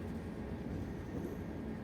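Passenger train travelling from Kolkata to Chennai rumbles along steadily at a constant level, a dense low continuous roar with no voices.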